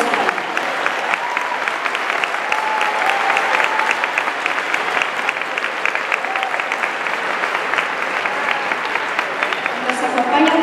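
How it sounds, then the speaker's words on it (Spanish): Sustained audience applause at the inauguration of an international pro-life congress in Ecuador, a dense even clapping from a large hall crowd, steady throughout. "Pido un aplauso."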